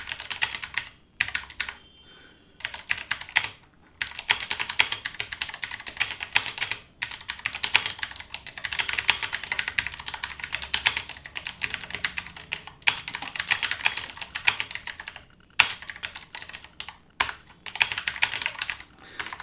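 Fast, steady typing on a computer keyboard during an online typing test, dense close-up key clicks with a few short pauses, no talk.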